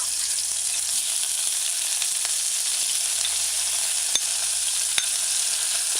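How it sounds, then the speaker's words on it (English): Chopped scallions stir-fried in hot cooking oil with a cooking spoon for a brown stewed oxtail, a constant close hiss with occasional light spoon clicks against the pot. "use a cooking spoon and stir fry for a couple seconds"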